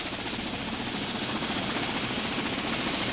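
A Life Flight helicopter gives a loud, steady, close rotor and engine roar, a dense unbroken drone with no voices.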